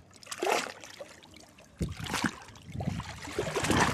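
Seawater splashes and trickles at Mui Wo while someone picks mussels by hand, irregular close sloshes and dribbles rising in several bursts, moderately loud, with occasional voices nearby.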